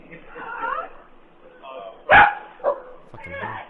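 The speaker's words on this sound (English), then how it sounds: "Shut up, dogs." A dog barks a few sharp times, the loudest bark mid-way, mixed with other animal calls and chatter nearby.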